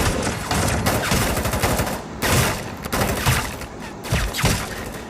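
Rapid bursts of gunfire from a shooting scene in a Bodo-language action film about police, with dense volleys and repeated shots filling the whole stretch, loud and close with no talk over them.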